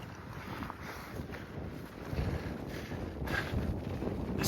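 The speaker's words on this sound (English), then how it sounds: "The wind's not too bad." Steady wind rushes and buffets the microphone on a mountain ridge trail on Mt. Baldy, a continuous roar that grows slightly stronger partway through, with no one speaking.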